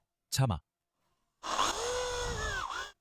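A drill bores a hole in a piece of wooden lumber, giving a short, steady whirring burst of about a second and a half after a brief voice.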